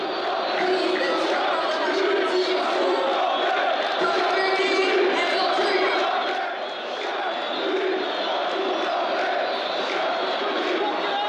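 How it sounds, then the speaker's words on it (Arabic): Thousands of Algeria national team fans roar together in a stadium before a friendly against Cape Verde, a dense, steady wall of cheering and chanting that stays loud throughout with only a brief dip. "تحت هتافات الآلاف من أنصار المنتخب الوطني الجزائري"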